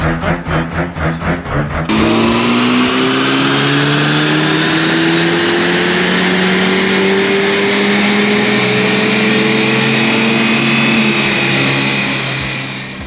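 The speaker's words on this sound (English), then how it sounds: "So next up on the dyno we had a Polo GTI." A VW Polo GTI revs on a dyno, first pulsing briefly and then climbing in one long, loud, sustained pull with rising engine pitch before easing off at the end.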